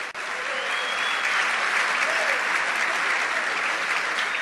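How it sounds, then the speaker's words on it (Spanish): A church congregation claps loudly and steadily, a dense continuous roar of hands filling the room from start to finish with a faint voice underneath. "Dale un aplauso al rey"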